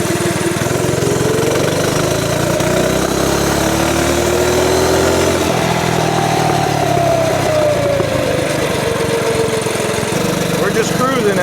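A mini bike with a Ghost 212 engine cruises at a steady, moderate speed, its loud, buzzy single-cylinder drone close by with a slight pitch rise and fall.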